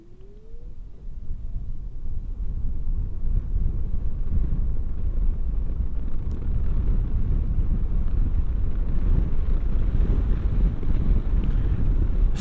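Steady rushing wind buffets the microphone while riding a 2025 TVS Orbiter electric scooter with a 3.1 kWh battery, rising after the first couple of seconds and staying loud and constant with no motor note standing out.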